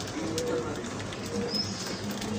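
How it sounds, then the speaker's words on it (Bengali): Pigeons feeding give soft, low cooing, a few gentle calls rising faintly over quiet background ambience. "শান্তির পায়রাগুলো"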